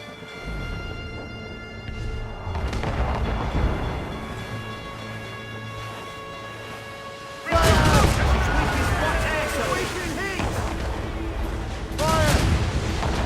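A ship fires its cannons in Assassin's Creed Rogue, with heavy booming blasts breaking in after a stretch of music and a second salvo a few seconds later, while crew members shout commands over the fire.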